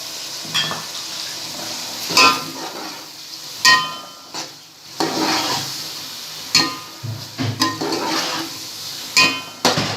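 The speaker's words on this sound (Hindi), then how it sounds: "अब हम इन मटरों को फ्राई कर लेते हैं इनके साथ, मसाले के साथ अच्छे से।" Boiled peas being fried with spices in a pan for Pakistani matar pulao, a steady close sizzle broken by repeated bursts of stirring and scraping against the pot, with no talking.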